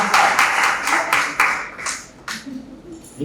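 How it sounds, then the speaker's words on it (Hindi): An audience at a motivational seminar breaks into strong clapping in rhythmic bursts that fade after a few seconds, with a voice heard faintly underneath. "इनके लिए जोरदार ताली होनी चाहिए।"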